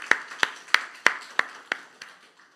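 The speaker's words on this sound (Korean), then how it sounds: "우리 하나님께 영광의 박수를 올려드리겠습니다" Eight spaced, sharp claps ring out in a steady slowing rhythm during an Easter Sunday church service, fading toward the end, with no talk over them.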